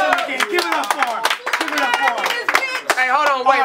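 An audience at a King of the Dot rap battle claps rapidly and steadily, a dense run of close, sharp claps with someone talking over it.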